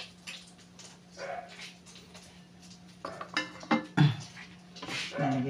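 A dog gives a few short barks and whimpers at close range, mixed with clinking dishes and cutlery in the background.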